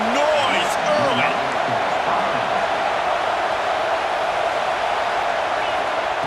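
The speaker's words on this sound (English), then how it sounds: "This crowd bringing the energy and noise early." Stadium crowd roar in EA Sports College Football 26, a loud, steady wash of massed voices and cheering that holds constant throughout with no break, with faint commentary-like speech threaded underneath.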